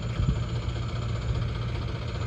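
A tractor engine idles steadily at night, a continuous low rumble with a faint knocking vibration, close and unbroken with no voices.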